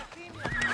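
A horse in the Assassin's Creed Odyssey video game lets out a brief, fairly close whinny lasting under a second, set among other game sounds.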